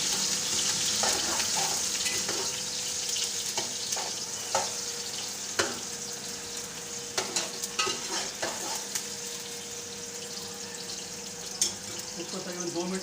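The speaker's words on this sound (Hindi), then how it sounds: "देखिए ये तेल हमारा गर्म हो चुका है। सबसे पहले इसमें हम प्याज डालेंगे।" Onion frying in hot oil in a home kitchen pan, a constant hissing sizzle broken by scraping stirs of a spoon at irregular intervals, fairly close and moderately loud with no talking.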